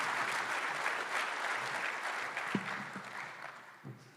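An audience at a leadership prayer breakfast applauds steadily as a speaker is welcomed to the stage, a dense even clapping that slowly thins and fades near the end.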